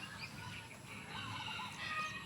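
Chickens clucking and chirping faintly in the distance over a steady outdoor background hum.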